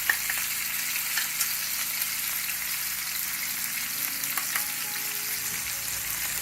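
Peas and samosa-filling spices sizzle steadily in a hot pan while being stirred, a dense continuous frying hiss with faint scraping, close up and without any voices.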